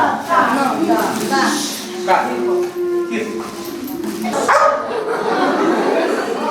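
A police dog barks several times with short yips during a police visit to a children's home in Ternopil, with people talking and moving about nearby.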